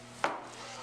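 A knife slices across the grain of a top sirloin, making a single short, crisp stroke against the board, close and fairly quiet.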